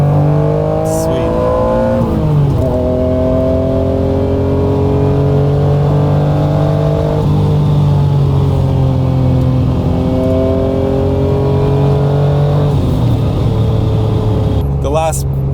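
A 1991 Acura NSX engine revs loud and close, climbing steadily in pitch through each gear with sharp drops at the shifts, a continuous mechanical howl that fills the whole stretch.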